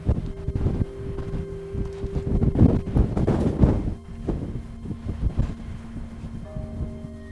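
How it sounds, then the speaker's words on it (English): Strong wind gusts across open desert land, buffeting the microphone as a loud, steady roar with surging low rumble and a few faint tonal hums, with no voices. "That wind though."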